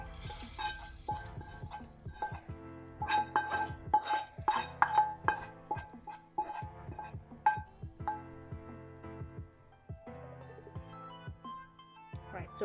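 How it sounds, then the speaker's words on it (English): Mung dal mixture is tipped from a pan into a pot, with scraping, clinks and rattling utensil knocks against metal and a soft sizzle, spread unevenly across the whole stretch beneath a steady hum. "we're just going to add the whole contents of the pan into the pot"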